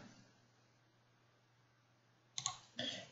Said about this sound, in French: je clique sur activer mon compte